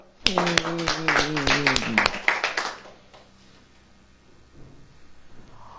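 A church congregation claps in rhythm, a quick run of sharp, loud claps under a preacher's voice for about two seconds before fading into a quiet room.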